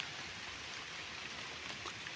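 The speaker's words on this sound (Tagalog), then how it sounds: "Dire-diretso lang ang agos ng tubig." A steady, continuous gush of spring water pours from a pipe on a rural farm lot, an even rushing splash that stays constant throughout with no talking over it.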